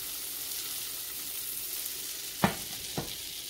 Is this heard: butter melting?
yes